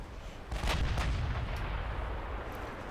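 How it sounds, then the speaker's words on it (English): Heavy 18-inch naval guns fire in the naval warship video game Ultimate Admiral Dreadnoughts, a deep booming salvo of a couple of close, loud blasts with a rumbling tail. "18-inch guns, gonna make a mess."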